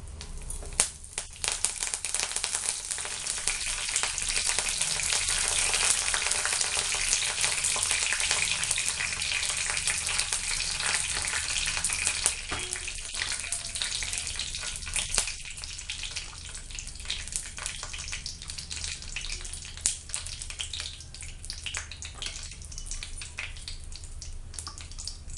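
Curry leaves sizzle and crackle in hot oil in a pan while a tomato soup is being made, a loud, steady frying hiss with scattered pops that lasts throughout, with no talking.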